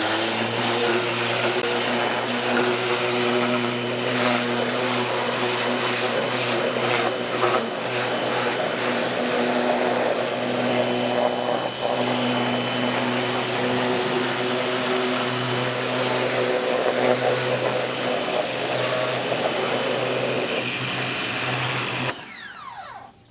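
A pressure washer sprays down a car's engine bay, a loud, constant high-pressure hiss and pump drone running nonstop for over twenty seconds close by, cutting off abruptly at the end without any talk.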